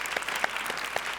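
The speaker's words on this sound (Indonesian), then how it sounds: "Boleh tepuk tangan sekali lagi buat Ferry." A studio audience claps during an Indonesian celebrity talk show, a brief dense burst of applause with a few sharper claps standing out.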